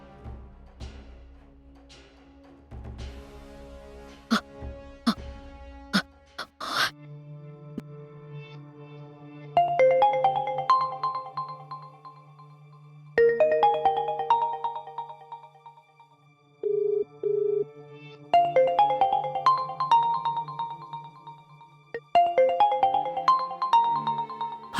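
A melodic phone ringtone plays in repeated bursts, preceded by a few sharp tonal hits, loud and close with no talking.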